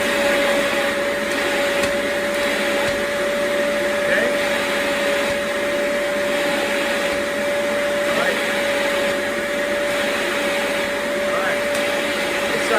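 A Tineco, Bissell or Hoover carpet shampooer runs with its suction on, giving a steady, loud motor roar with a constant high whine throughout and no break.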